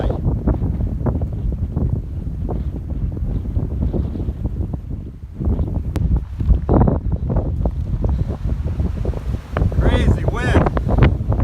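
Strong, gusting wind on a hiking trail in October, roaring loudly and steadily across the microphone in a dense buffeting rush with no pauses.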